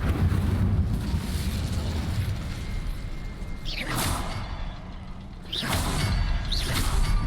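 An Incendio fire spell is cast in the video game Hogwarts Legacy, bursting out as loud whooshing flame blasts, with two or three sharp bursts over a continuous rumbling roar.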